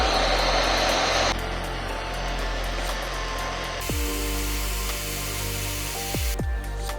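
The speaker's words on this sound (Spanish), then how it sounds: "Ahora vamos a calentar con un soplete el extremo de este tubo para poder chafarlo." A blowtorch roars steadily while heating the end of a metal tube, a loud continuous hiss and rush that shifts in tone partway through, with a few clinks of metal near the end.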